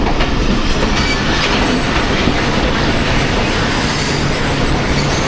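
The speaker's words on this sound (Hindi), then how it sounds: "लूप लाइन पे आ गई है ये ट्रेन, और इसमें काफ़ी सारे पैसेंजर हैं जो बोर्ड होंगे।" Millat Express train pulling in on a station loop line, a loud steady rumble of wheels and carriages with faint clatter and a thin high squeal, continuous and close throughout.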